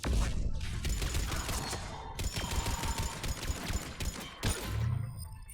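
Rapid automatic turret gunfire in the sci-fi shooter Mass Effect 3, a dense stream of shots with thuds and mechanical clatter, loud and continuous throughout with brief breaks.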